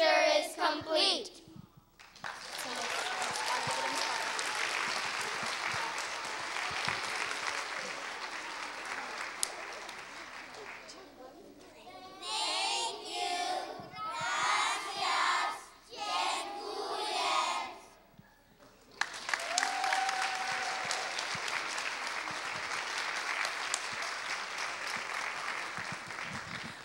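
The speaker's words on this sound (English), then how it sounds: "Please, can we give another round of applause?" Audience applause at a school performance by young students, a long, dense burst of clapping from a crowd, broken midway by a short stretch of voices before the clapping swells again loudly.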